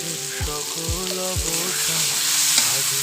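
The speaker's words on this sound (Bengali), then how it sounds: "সামান্য একটু জল দিয়ে ভালো করে কষে নিব" Spices with turmeric and salt sizzle and fry steadily in a pan at close range, a continuous hiss under faint background tones, with a few low knocks near the start.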